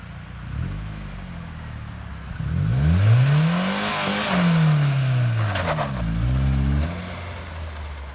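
A 1998 Isuzu Amigo's engine is revved hard during a burnout attempt, its pitch climbing, peaking and falling in two loud swells over a steady idle, with no talking.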